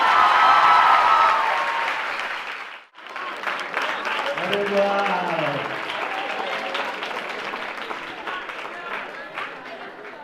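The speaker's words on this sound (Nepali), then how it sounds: "ठुलो तालीका साथ उहाँलाई स्वागत गरौँ।" Audience at the National Youth Gathering 2017 in Nepal breaks into applause welcoming a speaker, a dense wash of clapping that dips briefly, then resumes and tapers while a voice speaks over it.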